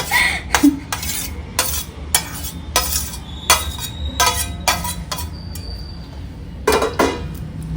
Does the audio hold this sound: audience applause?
no